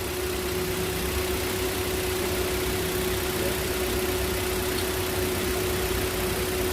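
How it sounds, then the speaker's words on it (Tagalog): A car engine idles after a misfire fix, holding a smooth, steady hum with a constant tone and no jerks or stumbles throughout. "Tumahimik na yung makina niya. Hindi na siya jerking"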